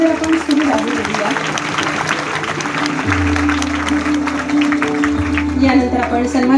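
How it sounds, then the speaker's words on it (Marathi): Applause at a village felicitation ceremony in rural Maharashtra, steady clapping from a gathered crowd continuing throughout, with a low hum and some voices mixed in. "टाळ्यांचा गजर आपण सुरू राहू देऊया"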